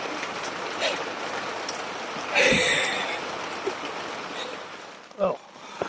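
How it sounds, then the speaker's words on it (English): Rain patters steadily on the outside of a tent, a close, continuous wash of drops with a few louder thumps and rustles breaking through near the middle and end. "the rain came down before he got it all done"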